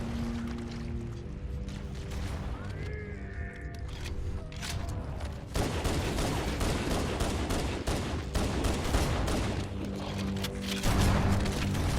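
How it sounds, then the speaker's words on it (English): Video game combat in Halo: CE Anniversary, with dense, continuous gunfire and rumbling explosions that swell after a quieter start with mechanical creaks and whines, busy and loud throughout. "Ooh, exploding things."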